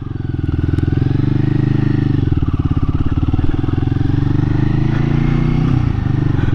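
A Royal Enfield Guerrilla 450 motorcycle pulling off, its single engine thudding in a steady rumble that rises slightly as it gets underway, loud and close with faint talk beneath.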